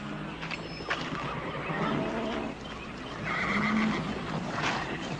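A horse whinnies in the open in a Western action movie, a rising, wavering call over steady outdoor background noise, with a second shorter neigh near the end.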